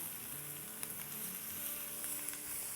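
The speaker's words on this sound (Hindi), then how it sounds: "तो बस इसको हम 30 सेकंड सौटे करेंगे।" Crushed fresh green chilies, ginger and garlic sauté in hot oil for a mutton karahi, giving a continuous close sizzle with faint stirring scrapes and no talking.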